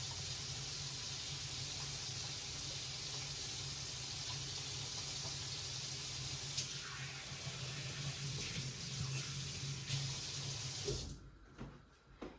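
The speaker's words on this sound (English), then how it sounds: "I come on over to the sink and I wash my hands." A kitchen sink tap runs steadily while hands are washed under it, a loud, even rush and hiss of water that cuts off near the end, leaving a few faint clunks.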